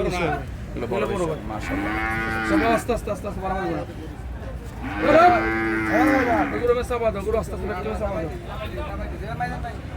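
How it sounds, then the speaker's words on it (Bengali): Native cattle moo loudly twice at a cattle market, long drawn-out calls close by, with people talking and a murmur of voices around them. "এখানে দেখতে পাচ্ছেন কিছু মানে দেশি গরু"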